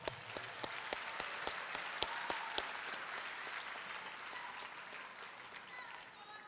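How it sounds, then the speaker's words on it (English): A university commencement crowd at Albany State University's fall 2012 ceremony claps for summa cum laude graduates. The applause is distant and fairly quiet, with a few sharp individual claps standing out early before it settles into a steady patter. "Let's give them an applause."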